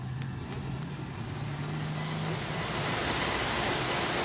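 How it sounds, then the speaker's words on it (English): A Nostalgia Sedan race car takes a lap of honour at Maryborough Speedway at night, its engine a distant, steady rumble that swells slightly over the seconds, blended with broad crowd and ambient wash. "the car number 33, Barry Tasker, is going to do a lap of honour with the checkered flag."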